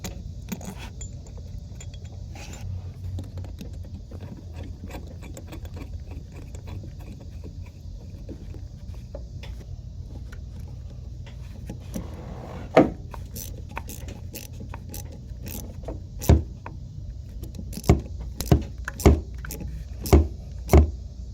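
Screws being fitted to the expansion valve of a 2014 Ford Fiesta 1.6 air-conditioning system: a quiet workshop stretch, then a run of sharp metallic clicks and taps, close and spaced irregularly, growing more frequent toward the end.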